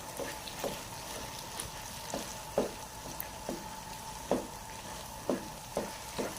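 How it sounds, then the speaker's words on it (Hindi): Makhandi halwa mixture being roasted in a pan, with a faint steady sizzle broken by regular soft scraping clicks of a spoon stirring every half second or so. "भूनते जाना है, थोड़ा सा भूनने में ही टाइम लगेगा"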